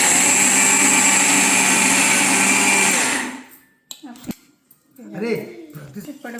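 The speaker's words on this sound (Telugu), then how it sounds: "మిక్సీ పట్టి" A mixer grinder grinding ginger runs with a loud, steady whir for about three seconds, then stops abruptly, followed by light clatter and a person speaking nearby.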